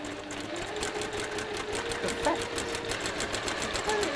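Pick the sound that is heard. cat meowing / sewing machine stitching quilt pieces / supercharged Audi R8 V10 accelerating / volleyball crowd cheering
sewing machine stitching quilt pieces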